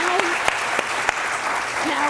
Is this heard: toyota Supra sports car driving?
no